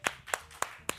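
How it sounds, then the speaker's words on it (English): Four separate hand claps, evenly spaced and fairly faint, as a guest is welcomed on stage at a watch auction. "Round of applause."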